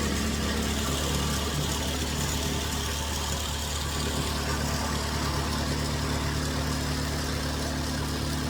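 A Kubota engine runs steadily after an engine swap, giving a continuous loud, close mechanical drone with no change in pace and no talking.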